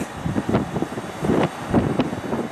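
Gusty wind buffets the microphone outdoors at Cleveland Hopkins Airport on a 28-degree day, a low, uneven rumble that swells and fades in bursts, with no voices.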